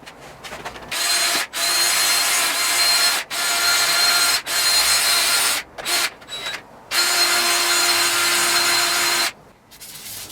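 DeWalt power tool whirring in steady bursts while cleaning Corvette engine parts, with short pauses between runs and a rough scrubbing grind against metal, close up.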